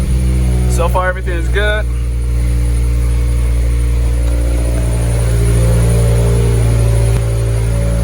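A turbocharged Mazdaspeed6 engine with a newly installed Corksport turbo idles steadily with a low, constant rumble throughout, while someone speaks briefly near the start.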